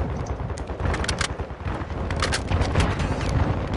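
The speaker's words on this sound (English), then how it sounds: "Where the fuck is that shooting coming from?" Gunfire rattles through an online shooter game on PS4, dense bursts of rapid shots and booms layered over one another, loud and continuous with several crisp distinct cracks, no voices over it.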